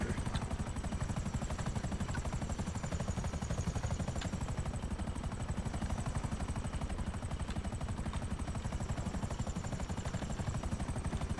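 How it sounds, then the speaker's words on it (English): Helicopter in GTA 5 Online, its rotor chop a steady, loud rapid beat with a constant engine whine throughout, alone without talk. "There's something to be said for a stealth helicopter."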